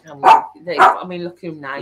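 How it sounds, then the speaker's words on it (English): A dog barks several times in close, sharp bursts, mixed with whimpering yelps, while people talk over it indoors. "We can't stop the dogs barking"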